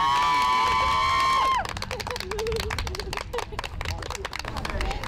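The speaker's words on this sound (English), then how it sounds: "landed to a round of applause" A crowd applauds and cheers after a charity skydive landing, a dense patter of clapping and shouts outdoors that follows a sustained tone at the start, with voices mixed in.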